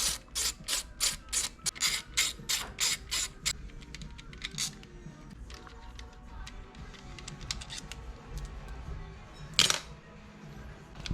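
Ratchet wrench backing out 10 mm bolts that hold the fuel rail on a 2019 Yamaha MT09 motorcycle, with a quick run of sharp, close clicking bursts, then scattered softer clicks and a single loud click later on.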